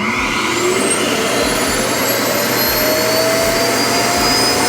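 Roomba i7 Plus robot vacuum's self-emptying base running with a loud, steady suction roar and a rising whine, close and continuous with no talk.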